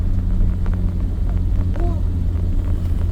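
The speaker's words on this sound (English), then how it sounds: "It's a very rough cam. Everybody hears it a mile away. You can hear it idling." A low, rumbling BMW 325is EVO1 2.9L stroker engine with a rough camshaft idles steadily with a lumpy, uneven throb, loud and close throughout.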